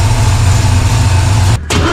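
A Chevy 350 with a Vortec intake manifold runs loud and close at a steady rumbling idle, then abruptly cuts out for a split second before catching and running again.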